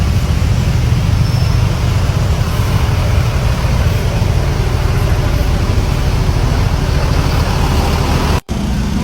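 Congested road traffic at Puncak Bogor, a continuous low engine rumble and roadway hum from stalled cars and buses, steady and nearby for several seconds with a momentary cut near the end.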